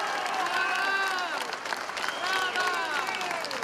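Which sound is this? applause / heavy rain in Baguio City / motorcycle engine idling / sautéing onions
applause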